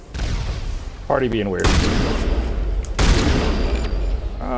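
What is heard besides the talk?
gunfire in the video game Mass Effect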